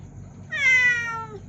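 A cat meows once, a clear rising-and-falling call lasting under a second, close and loud over a low background hum.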